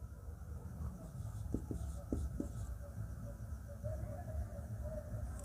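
Chalk or marker writing on a board during a Hindi set-theory math lesson, heard as a few short taps and scratchy strokes over a steady low room hum, with no talk.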